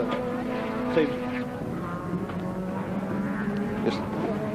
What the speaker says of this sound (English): the leading cars, which are just going past the broadcast box now